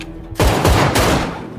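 A gunshot from a gangster film scene bursts in suddenly after a quiet start, a loud, close blast followed by a second crack and echoing decay.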